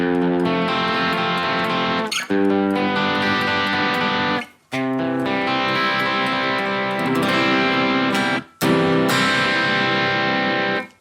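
Overdriven electric guitar through a Marshall JVM410H tube amp, OD2 channel in green mode, plays chords and sustained notes, warm and gritty, with brief pauses between phrases, loud and alone.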